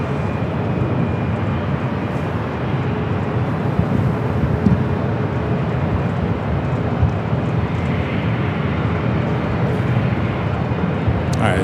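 A jet airliner heading to Frankfurt passes near LAX, its engines a steady, loud broadband roar that holds throughout without any voices.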